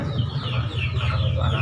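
Five-month-old chickens clucking in a backyard coop, a steady run of close, busy clucks and coos with no voices.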